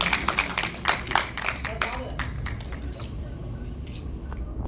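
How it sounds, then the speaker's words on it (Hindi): An audience claps at a Uttarakhand Independence Day poetry gathering after a recitation, a burst of scattered hand claps that thins out over a few seconds amid room noise and faint talk. "एक बार जोरदार ताली।"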